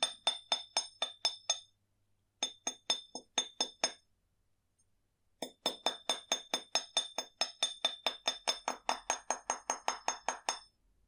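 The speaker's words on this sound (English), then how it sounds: "use my ball peen hammer just to create a bit of texture on the front of the brooch" Ball peen hammer tapping a wire brooch on a bench block, a series of sharp metallic clinks in quick rhythmic bursts separated by short pauses, close and clear with nothing else around.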